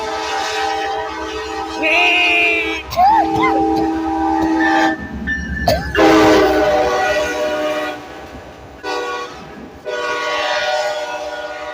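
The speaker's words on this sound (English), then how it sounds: "You can't hear me over the train anyway" A train rumbles past near Denali, Alaska, with a long horn blast and a shrill whistle, wheels clattering steadily; loud and close, with the noise swelling and easing over time.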